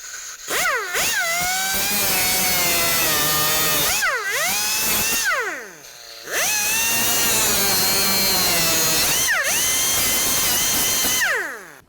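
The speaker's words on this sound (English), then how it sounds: "I like to use my cutoff tool." Cutoff tool slicing the ends off door parts on a 1988-2002 GMC Sierra 1500, a loud, close, high-pitched whine whose pitch drops as it bites into the metal and climbs again, in four long bursts with brief pauses between.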